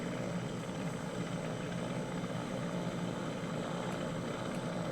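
A cargo helicopter flies in a video game, its rotor and engine making a steady, dense droning roar that holds evenly throughout without talk.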